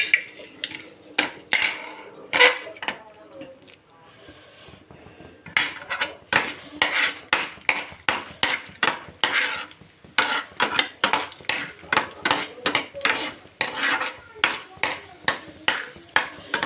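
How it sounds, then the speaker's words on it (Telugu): Chana dal being dry-roasted and stirred in a pan, with a steady run of metallic scrapes and clinks from the spatula against the metal, close by, and a voice speaking briefly under the noise. "ముందుగా మనం పచ్చిశనగపప్పు మాత్రం వేపుకోవాలి"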